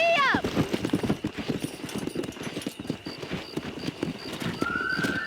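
A horse galloping in Red Dead Redemption, a neigh at the start followed by a fast, steady drumming of hooves up close, with voices talking over the ride.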